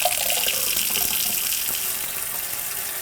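Tap water runs steadily and fairly loud after a whole-house water filter change, a continuous hissing gush from the faucet into the sink with no voices.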